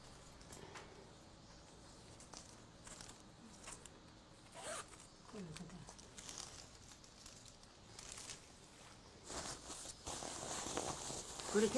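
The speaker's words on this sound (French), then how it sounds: "La fermeture éclair est pas très solide." A jacket zipper being drawn closed, a quiet rasping run with short scraping bursts, heard close up under low room noise and faint movement.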